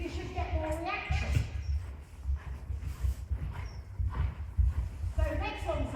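A horse works through a medium canter in a dressage arena, its muffled hoofbeats thudding in a rolling rhythm on the soft surface while a rider and instructor talk over it almost throughout.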